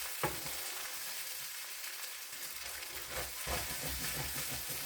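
Breakfast food fries and sizzles in an old frying pan, a soft, steady crackle with occasional sharper pops and scraping stirs, fairly quiet and with no one talking.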